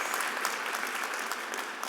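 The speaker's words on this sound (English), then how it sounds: "Give yourself another round of applause" A crowd at a university graduation convocation applauds in a continuous, even wash of many handclaps, fairly loud throughout the short stretch, with no speech.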